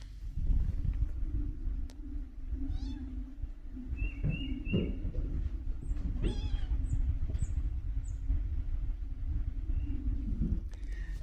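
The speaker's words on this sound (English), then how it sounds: "You just heard her meow a little bit" A kitten gives a few faint meows amid background noise, with scattered bird chirps and a steady low hum throughout.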